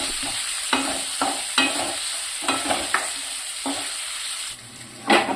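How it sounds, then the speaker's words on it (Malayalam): Curry leaves, ginger and green chili sautéing for a Kerala pepper pork fry, with steady sizzling oil and repeated scraping stirs of a spatula against the pan, close and fairly loud with no talk. "വേപ്പില, ഇഞ്ചി, പച്ചമുളക് ഇതെല്ലാം ഇട്ട് ഒന്ന് വഴറ്റാം"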